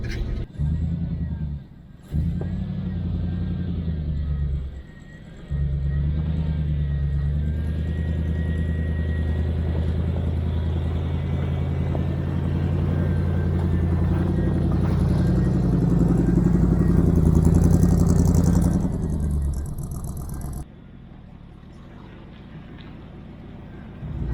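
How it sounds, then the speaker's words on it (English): A lifted 1987 GMC K20 squarebody pickup with a throttle-body engine idles steadily in a garage, a loud, continuous low rumble with brief dips, rising slightly in intensity before settling back down. "this truck runs really good, so I've left it in here. Gotta let it run to charge the batteries up."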